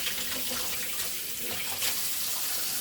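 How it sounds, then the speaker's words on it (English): A kitchen tap runs steadily as hands are washed under it, a close, constant rushing stream with small splashy shifts throughout, no one speaking. "I wash my hands, y'all."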